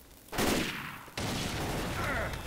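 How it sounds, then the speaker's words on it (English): Fireworks in Left 4 Dead 2 go off in two sudden loud bursts, each followed by a crackling, sustained rush of noise. "Fireworks."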